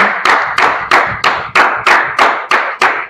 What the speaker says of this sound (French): Est-ce qu'on peut applaudir la parole de Dieu?